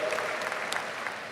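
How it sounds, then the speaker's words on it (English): County staff applauding during a State of the County address in Cuyahoga County, a steady patter of hand claps from a group in a large hall, moderately loud and sustained throughout the short moment with no talk over it. "my county staff is clapping to that."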